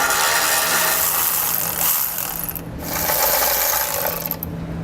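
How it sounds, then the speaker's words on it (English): A 13mm socket ratchet backs out a bolt during an air spring install on a 2016 Chevrolet Silverado 2500. Quick continuous clicking of the ratchet pawl comes with a brief pause near the middle, close and fairly loud. "I'm going to be using a 13mm socket to remove that bolt"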